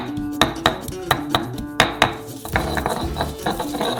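Garlic, chili and coriander pounded in a large mortar, heard as a steady series of sharp, close knocks and clinks at an even rhythm, turning into softer scraping and grinding toward the end.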